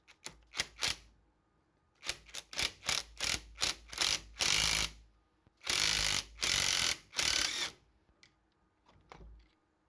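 A broken ball bearing is pulled off a motor shaft in a pneumatic compressor repair, making a quick run of sharp metallic clicks followed by longer loud grinding, scraping bursts, then a few sparse ticks at the end, with no talking.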